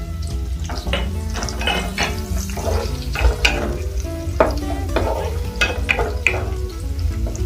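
Onion frying in a pan for a home-cooked dish, a steady loud sizzle with repeated scraping stirs of a utensil against the pan throughout.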